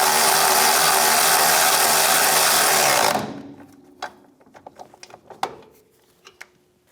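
Snugging a bolt on a 1992-1996 Ford F-150 front shock mount tower bracket with a 13mm socket: loud steady mechanical whirring of a powered tool for about three seconds, then it stops and leaves scattered light metallic clicks and taps.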